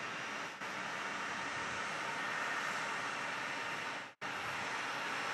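A CRJ regional jet taxiing at Phoenix Sky Harbor Airport, producing a steady broadband jet engine roar at moderate distance that holds throughout with two brief dropouts.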